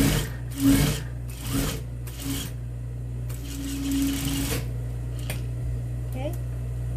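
A sewing machine stitches a fabric seam in short bursts of rapid whirring, several runs separated by pauses, close and fairly loud, with a faint hum underneath.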